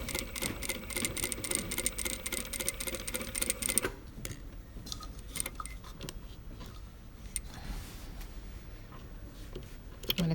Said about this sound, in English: We're going to stitch this pocket on in exactly the same way as we stitched our back pockets last week.